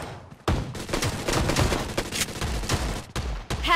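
Sustained bursts of automatic gunfire from the mobile battle royale game PUBG Mobile, loud and dense, with rapid shots running almost continuously through the clip and a short break near the end.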